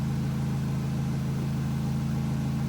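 Car engine idling a little high at about 850 RPM with a large vacuum leak, giving a steady, even hum with a low pulsing rumble, continuous and close throughout.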